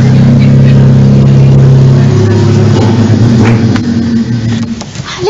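A car engine drones steadily and close, with a low rumble that holds and then shifts as the vehicle arrives, part of a stage comedy set in Folgaria.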